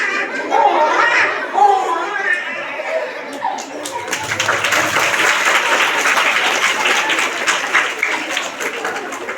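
A village comedy-show audience claps, a dense, steady applause that rises midway and carries on to the end, with laughter and voices mixed in at the start.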